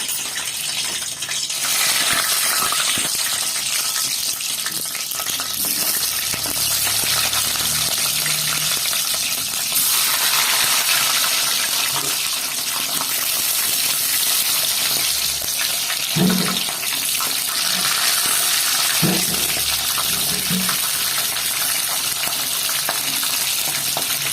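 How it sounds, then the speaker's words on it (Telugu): Green bajji chillies fry in hot oil for a Telugu-style mirchi masala curry, giving a steady, loud sizzling hiss throughout, with a few soft stirring clinks partway through and no talking. "ఇప్పుడు ఆయిల్ అయితే వేడయింది ఇప్పుడు నేనైతే బజ్జీలు అయితే వేసుకుంటున్నాను"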